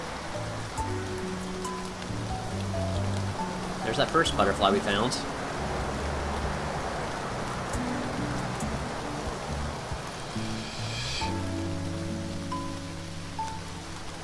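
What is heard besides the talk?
rain falling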